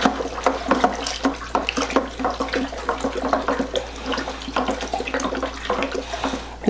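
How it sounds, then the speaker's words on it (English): Raspberry country wine liquid sloshes and swirls as it is stirred in a fermenting bucket, with irregular splashing pulses, close and moderately loud, no talking. "I'm going to stir that up really good."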